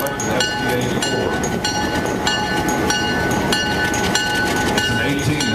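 A Montreal Locomotive Works FPA4 diesel locomotive from 1959, built for the Canadian National with an 1,800 horsepower 251 12-cylinder prime mover, rolls past loud and close. Its steady rumble carries rhythmic rail clicks and a high metallic whine, with no gap throughout.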